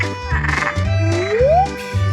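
Frog croaking in repeated low throbbing pulses, steady and close, with a rising whistle-like tone sliding upward partway through.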